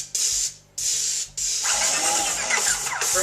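A Ryobi paint sprayer station hisses in three short bursts, then runs continuously with a motor chugging underneath, the hiss loud and close.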